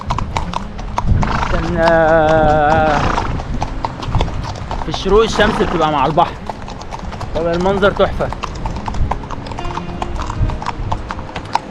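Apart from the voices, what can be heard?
horses walking, hooves clip-clopping, at sunrise in Dahab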